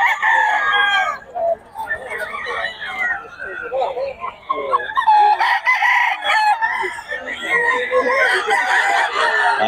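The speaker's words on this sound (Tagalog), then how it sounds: "Mga manok ni boss." Roosters and chickens valued at about 5,000 pesos crow and cluck repeatedly close by, with people talking throughout.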